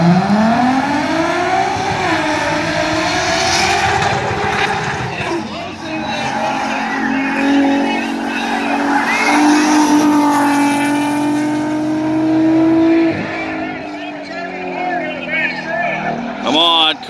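Race cars running a single lap on a track, with loud droning engines that climb and fall in pitch as they accelerate and ease off, plus tire squeal near the end and excited voices over the top.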